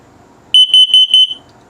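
A recreational travel trailer's carbon monoxide alarm, in a 2022 Flagstaff E Pro 20BHS, runs its test cycle: a rapid series of about seven loud, shrill electronic beeps in quick rhythm, with quiet room tone before and after.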